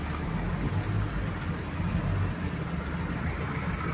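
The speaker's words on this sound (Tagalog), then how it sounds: "Sa lakas ng ulan." Heavy rain on Kalayaan Avenue in Makati pours as a dense, continuous hiss with a low traffic rumble beneath, steady throughout and without talk.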